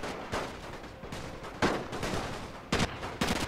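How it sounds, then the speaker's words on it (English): Soldiers exchanging gunfire in a Russian Empire war strategy game, scattered shots and short volleys popping at moderate distance, irregular and fairly quiet, with no talk. "they're really close right here, firing back and forth at each other"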